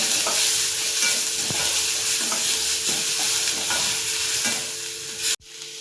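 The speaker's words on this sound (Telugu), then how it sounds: "టమోటా ఫ్రై అయ్యే వరకు ఉండాలి" Tomatoes sizzle steadily in a hot pan for chicken curry, a dense close frying hiss broken by regular scraping stirs, ending with an abrupt cutoff near the end.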